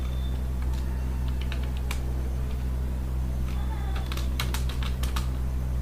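Fingers typing C++ code on a computer keyboard, scattered key clicks at first, then a quicker cluster of crisp taps near the end, close and fairly quiet over a steady low hum.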